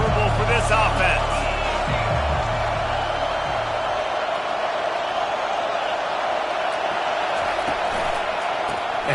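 Steady roar of a stadium crowd in a Madden football video game, loud and unbroken throughout, with a low rumbling layer fading out partway through.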